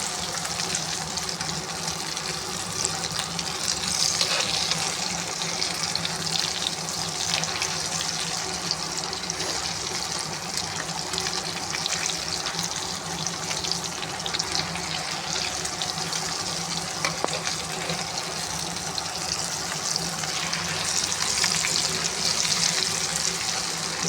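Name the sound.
aloo matar tikki frying in a pan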